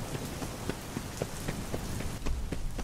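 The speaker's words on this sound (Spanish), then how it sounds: "¡Lluvia!" Steady rain falls on surfaces outdoors, a dense continuous patter of drops with close individual splats, loud and even throughout with no voices.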